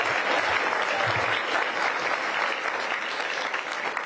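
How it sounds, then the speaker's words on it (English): Loud, continuous applause from a school crowd at Powell during a city commission kickoff event, honoring principals, teachers and staff; dense clapping that holds steady for the whole stretch. "Let's give the principals, teachers, and staff here at Powell a big round of applause."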